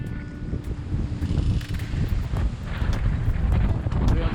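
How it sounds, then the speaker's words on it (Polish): Strong 20 to 23 knot wind buffets a sailing yacht on an ocean crossing between Big Island and Maui, a loud continuous roar with microphone gusts, and a person talks over it. "Robi się dysza między tymi wyspami i dmucha takie tam"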